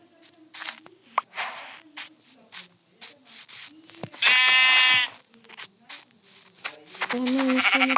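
Minecraft sheep bleating in a video game, a loud sustained harmonic bleat midway and another near the end, among clicks, rubbing and game sounds while a person talks.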